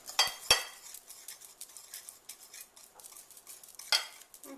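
A whisk stirring chocolate syrup ingredients in a saucepan makes quiet, steady scraping and swishing, with a few sharper metallic clinks against the pan.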